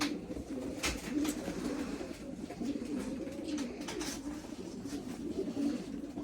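Pigeons coo steadily and softly throughout, a continuous low burbling with a few sharper flutters or clicks mixed in.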